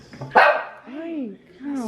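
A dog barks indoors in a family home: one sharp, loud bark near the start, then whimpering, rising-and-falling vocal sounds under nearby voices.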